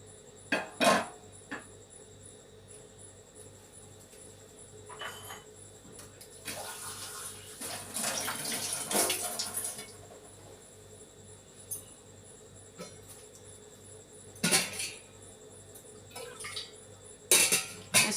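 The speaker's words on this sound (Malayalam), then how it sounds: "ശകലം വെള്ളം ഒഴിക്കുക." A little water is poured into a pot with tamarind, heard as a brief gushing splash in the middle amid scattered clinks and knocks of metal utensils in a quiet kitchen.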